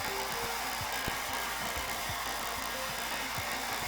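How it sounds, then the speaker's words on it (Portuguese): A steady, close whirring hum of a heat blower drying painted MDF runs without pause, with small clicks and rattles underneath. "Esse aparelhinho aqui é um soprador."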